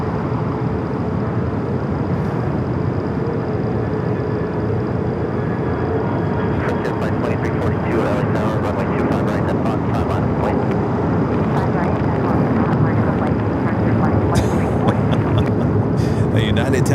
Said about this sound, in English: Turkish looking like it's going to be a north side takeoff.